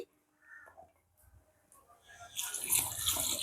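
After a few quiet knocks, water starts pouring steadily into a cooking pot for boiling Jaffna-style odiyal fish porridge, a splashing stream that grows louder toward the end.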